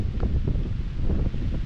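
Wind blows steadily across a plantation ahead of a typhoon, a dense, loud rushing with buffeting on the microphone and rustling leaves, continuous and close.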